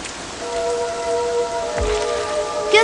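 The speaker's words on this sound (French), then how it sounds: "Il commence à pleuvoir." Rain falling steadily in an outdoor cartoon scene, a continuous hiss of drops on surfaces at moderate loudness, with faint tonal music underneath and a brief low thud near the end.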